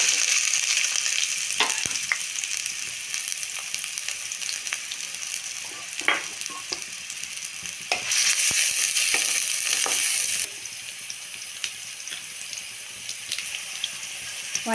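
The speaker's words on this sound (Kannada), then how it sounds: "ಆಯಿಲ್ ಬಿಸಿಯಾಗಿದೆ. ಈರುಳ್ಳಿ ಹಾಕ್ಕೊಳ್ಳೋಣ." Onion frying in hot oil for a tempering on a stovetop, a continuous near sizzle with scattered pops and stirring, plus a brief rush of running tap water partway through.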